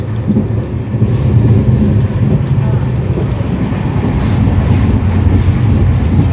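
Vasco da Gama–Velankanni Express, a new Rail Coach Factory Kapurthala-built coach, rumbling steadily along the track with a continuous low rolling roar and rhythmic clatter, heard from inside on a hot day.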